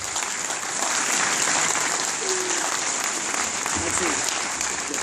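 Dense, even applause from a crowd at a Star Wars fan convention in Argentina, continuous clapping without pause, with faint voices briefly audible beneath it.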